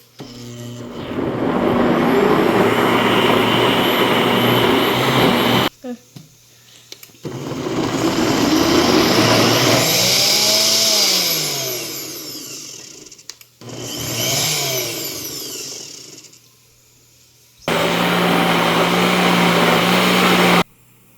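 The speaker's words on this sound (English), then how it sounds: "I'm grinding it." A kitchen mixer grinder blends bottle gourd chutney in loud, close bursts of whirring motor and churning paste, several runs separated by short pauses, with the pitch rising and falling as the blades spin up and slow.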